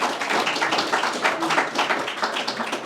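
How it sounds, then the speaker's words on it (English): A live audience claps and applauds steadily during playtesting at a Global Game Jam event, a dense, continuous patter of many hands that holds for the whole stretch without talk. "it's very strange to have actual applause while you're streaming"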